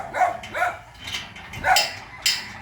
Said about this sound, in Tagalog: Si aso po.